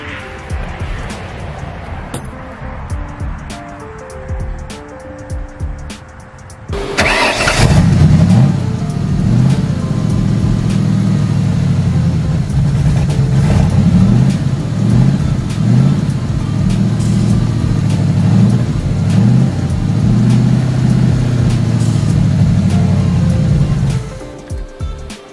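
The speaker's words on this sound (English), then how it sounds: "Let's get a battery in this thing and get it started up so you guys can hear it." A 5.0-swapped Ford Mustang engine cranks and catches, then runs loud and close with rough, uneven revving that rises and falls for about fifteen seconds before it cuts off abruptly.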